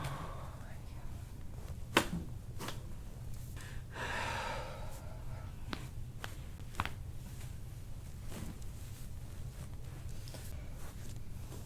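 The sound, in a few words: patient taking a deep breath in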